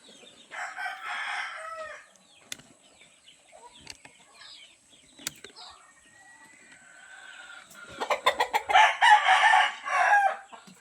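A broodcock rooster crows loudly nearby, with clucking and a burst of wing flapping near the end.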